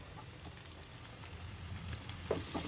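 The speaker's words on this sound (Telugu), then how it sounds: "అల్లం వెల్లుల్లి పేస్ట్ కూడా వేసేద్దాం." Ginger garlic paste with turmeric fries in hot oil, giving a steady low sizzle, with a faint scrape or two of stirring near the end and no talking.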